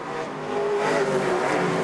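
Stock cars race at Toronto, a roaring engine note building and swelling as it rises in pitch under acceleration, loud and sustained with no talk.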